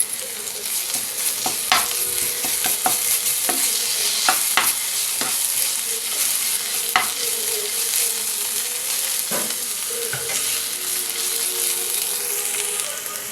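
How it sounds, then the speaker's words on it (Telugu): Ginger garlic paste fries with browned onions and curry leaves in hot oil for an egg curry, a dense continuous sizzle broken by repeated sharp spatula scrapes and taps against the pan. "ఇప్పుడు దీనిలో అల్లం వెల్లుల్లి పేస్ట్ వేస్తున్నాను."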